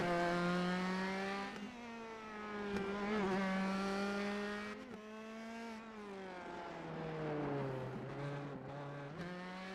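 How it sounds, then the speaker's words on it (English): An open-wheel race car in a racing video game on the Long Beach circuit drifts out of a near-hairpin right-hand turn, its engine droning steadily with pitch dips and climbs as it shifts and accelerates, no talk over it. "a nice drift coming there out of that hairpin, well, almost hairpin turn"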